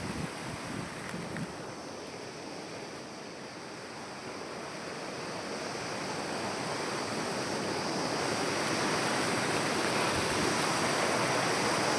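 Water rushing beneath a British-built railway bridge, a continuous broadband roar that swells slightly louder over time, with some wind noise and no talk.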